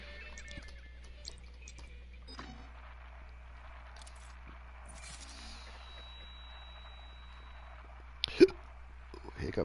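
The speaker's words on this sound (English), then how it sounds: "Hiccups." A single sharp hiccup comes near the end of a long, quiet stretch, followed by a small burst of noise, against faint, steady background hum.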